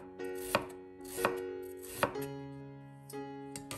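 A knife slices a small piece of fresh ginger on a cutting board, five crisp chops spaced about half a second to a second apart, close and clear with no talk.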